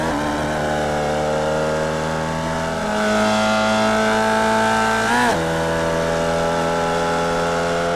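A Formula Vee race car in iRacing at Summit Point Raceway accelerates hard onto the long straight, its loud engine droning steadily, dropping pitch at an upshift then climbing again, with no talking.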